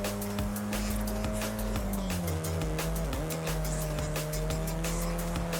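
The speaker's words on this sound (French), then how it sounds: "J'arrive à faire des bons drifts avec." Car engine revving and shifting in the racing video game Forza Horizon 5, with tires squealing while drifting; a steady, loud drone with rising and falling pitch throughout, no talking.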